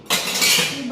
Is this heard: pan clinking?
yes